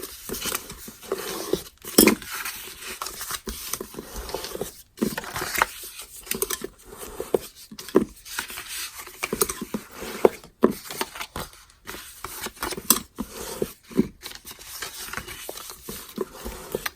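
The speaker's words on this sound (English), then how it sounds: "So I'm going to fold on the score lines, and I'm going to use my bone folder to burnish it." Card stock folded along its score lines and burnished with a bone folder: close, irregular rubbing, scraping and soft tapping strokes with brief pauses between passes.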